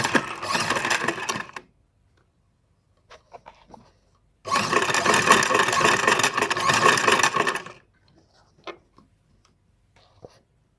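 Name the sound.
sewing machine stitching fabric edges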